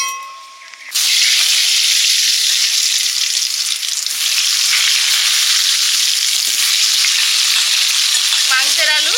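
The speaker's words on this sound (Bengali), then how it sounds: "মাংসের আলু ভেজে নিচ্ছি" Potatoes for a chicken curry hit hot oil with a sudden loud sizzle that settles into a steady, dense frying crackle, close and continuous.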